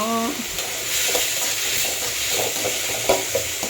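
Salted tomatoes soften in a hot pan for a mushroom gravy, sizzling steadily and close, with occasional stirring scrapes and a short tonal squeal at the start, with no voices.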